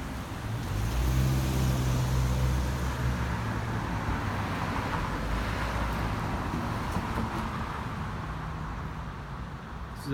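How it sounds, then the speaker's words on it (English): Cars travelling both ways along Rowena in the evening rush hour, heard as a continuous broad road roar that is strongest early on and then eases slightly over ten seconds, with no talk. "Got a number of cars coming along the road in both directions."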